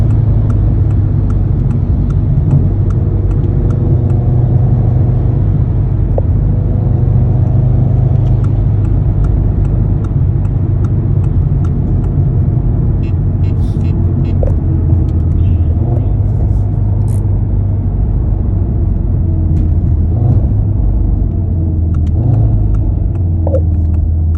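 A 2018 Audi TT RS engine idles with a steady low rumble, rising now and then in light blips of the throttle, heard close up while someone talks over it.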